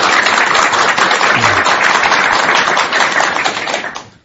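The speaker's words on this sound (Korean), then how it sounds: "먼저 따뜻한 환영의 박수 부탁드립니다." A studio audience claps in warm welcome on a Buddhist TV talk show, steady dense applause that carries on loudly for several seconds and then fades out, with no talking over it.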